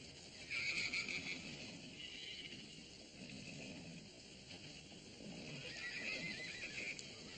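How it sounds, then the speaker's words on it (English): Horses whinny faintly in the distance at an outdoor horse auction in Gunlock, two drawn-out neighs separated by a lull, over quiet ambient outdoor background. "Oh, Mr. Tabor, I've got some horses up for auction."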